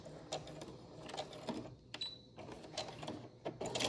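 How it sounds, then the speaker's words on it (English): A sewing machine runs straight stitches through face mask fabric in short bursts of rapid mechanical whirring and clicking, separated by brief pauses, fairly close and quiet. "And let's get this in the machine. And straight stitch down."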